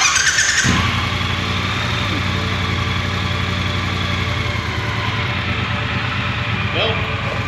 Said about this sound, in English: So I'm going to start it up and and we'll see.